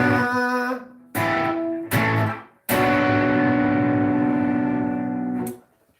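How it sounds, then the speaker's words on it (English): Electric instrument played through a distortion effect, sustained harmonically rich tones in three separate bursts with short gaps, the last note ringing loud for about three seconds before cutting off. "I really need to practice playing with distortion if I'm going to use it"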